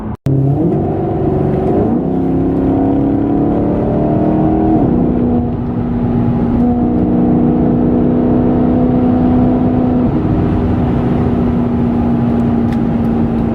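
A 2012 Maserati GranTurismo S drives along smooth roads, its engine a loud, continuous drone from inside the car that climbs in pitch and then drops back at shifts, with no talking.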